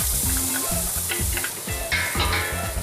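Garlic sautéing in hot oil in a pot for Filipino humba, a steady close sizzle and crackle with stirring sounds and a repeating low rhythmic tone underneath throughout.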